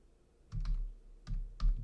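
Computer keyboard typing a Linux system command during an Arch Linux install, three quiet clusters of soft key clicks close by, with no talking.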